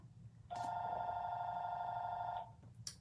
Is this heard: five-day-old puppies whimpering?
no